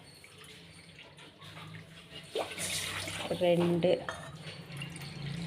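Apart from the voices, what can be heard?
water poured into kadai for rava kesari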